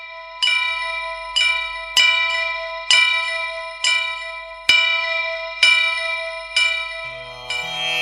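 A temple bell rings during a Hindu ritual, struck about once a second in a steady series of bright, loud metallic clangs with long ringing decay, close by, with a low hum beneath.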